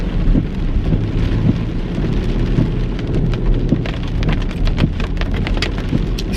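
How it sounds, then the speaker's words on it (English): Heavy rain pours down in a dense, continuous hiss, with deep rolling thunder rumbling underneath and scattered louder drops pattering close by; no one speaks. "It's pouring down rain right now."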